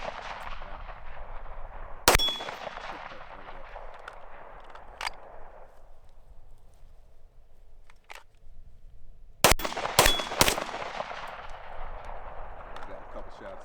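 Pistol shots fired at a target through a UUQ Eagle C28 SRO-style RMR red dot sight: one sharp crack early, then a quick cluster of several loud reports near the end, with someone talking between them.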